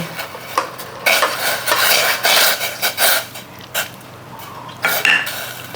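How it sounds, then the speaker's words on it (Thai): Pork is stirred in a pot of boiling water seasoned with a little light soy sauce, with scraping utensil clatter and metal knocks against the pot over a bubbling wash, close and fairly loud. "แล้วก็ หมูค่ะ ลงไปรวนเลย"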